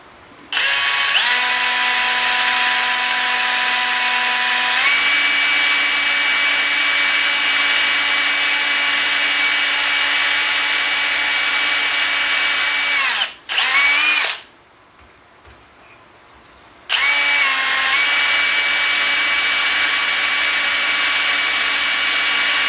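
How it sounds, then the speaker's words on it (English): A power drill runs steadily at high pitch drilling through metal for a long stretch, pausing briefly near the end before whining back up, with no talking. "you want to drill that all the way through both sides"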